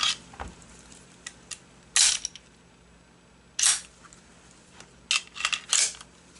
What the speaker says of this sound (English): Let's make sure this gun is cleared first.